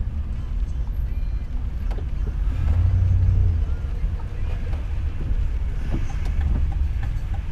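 Road traffic passes around a moving motorhome as a continuous low rumble of engines and tires with wind buffeting, swelling briefly as a vehicle goes by, while someone talks over it.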